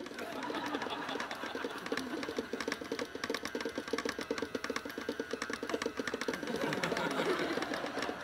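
Electric mixer creaming a dessert batter, a steady close whirring drone with fine rapid rattling pulses running through, fairly quiet, with a voice speaking briefly over it.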